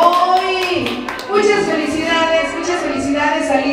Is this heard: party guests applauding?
yes